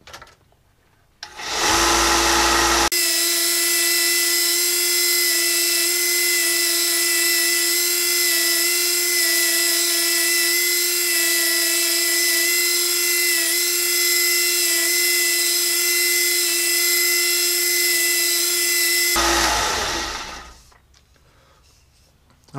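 A belt sander spins up with a brief rising whine, then grinds steadily at 120 grit against a carving knife handle with a loud, sustained high-pitched tone for about sixteen seconds before winding down, heard alone in a workshop.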